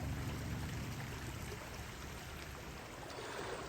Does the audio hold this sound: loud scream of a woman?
no